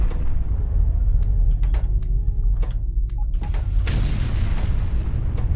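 Artillery shells firing in the Factorio video game: heavy booms and thuds, several in a row, over a steady dense rumble, with a sharper broadband burst near the end.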